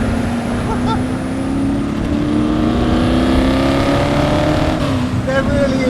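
A Ford GT40 race car's engine roars steadily at Willow Springs Raceway, a loud, sustained drone with shifting pitch that fills the whole stretch, while a voice talks over it.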